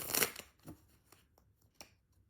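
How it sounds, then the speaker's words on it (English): Tarot cards being shuffled by hand, heard as a few quick riffling bursts, the loudest at the start, followed by softer scattered flicks, all quiet and close. "All right, 2 more shuffles."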